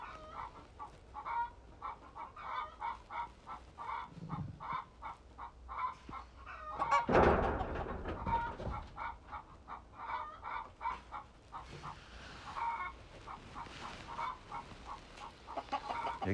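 Chickens cluck in a busy, continuous stream nearby, with a louder squawking burst partway through and faint farmyard background.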